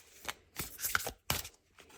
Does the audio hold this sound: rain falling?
no